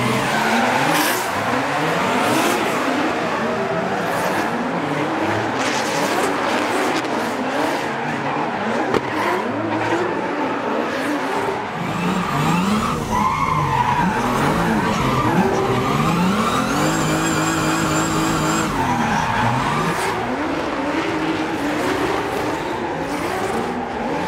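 Drifting car at a Nordic drifting event before a crowd, tires squealing and skidding continuously with a loud engine roaring and revving throughout, close and sustained with no talk.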